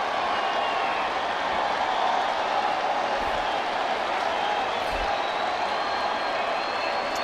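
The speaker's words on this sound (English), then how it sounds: "Here comes the crowd now." Baseball stadium crowd at a Detroit Tigers versus Houston Astros game in 2017, a broad steady roar of cheering and applause filling the park, loud and continuous throughout.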